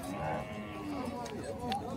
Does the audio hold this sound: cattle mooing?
yes